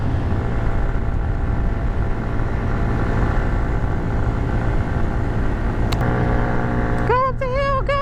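A CF Moto Papio motorcycle climbs a hill with a steady, loud engine drone throughout, and a voice speaks over it near the end.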